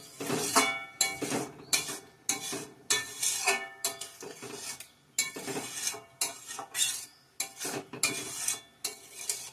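A cooking pot of mashkalai dal is lifted off the stove amid a steady series of close metallic clanks and scrapes of pot and utensils, the knocks coming in irregular bursts roughly every half second.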